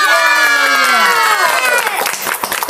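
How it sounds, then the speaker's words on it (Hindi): A crowd at a sangeet ceremony cheers and claps loudly. High shouts and voices ride over steady applause, and it grows busier and rougher toward the end. "शायरी खत्म होते ही आपकी तालियां शुरू होनी चाहिए"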